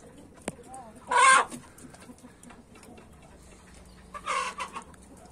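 Two short bursts of clucking from a fighting rooster in poor health, separated by a few seconds, over a quiet background.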